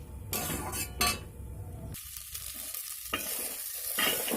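Cooked potato curry being tipped and scraped out of a hot pan after the gas is turned off, with clattering bursts and metal scrapes early, then a softer wet sliding and faint sizzle.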